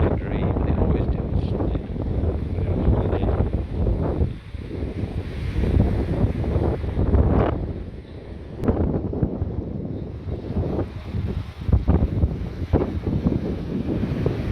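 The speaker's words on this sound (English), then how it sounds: "Quite windy, nearly blowing the camera out of my hand a lot of the time." Strong wind on a beach walk in Corralejo buffets the microphone with a loud, continuous low roar and gusty rumbles.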